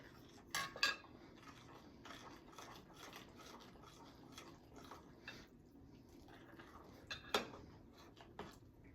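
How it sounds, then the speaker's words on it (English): A utensil scrapes and clinks in a bowl while a baking mixture is stirred, with soft irregular scraping and a few sharper clinks near the start and end, close and quiet over a low background hum. "Stir that all up."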